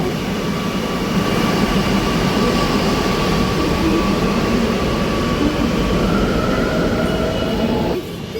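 A metro train rumbles steadily with a loud broadband roar and a faint whine, fairly close, ending in a sudden drop near the end.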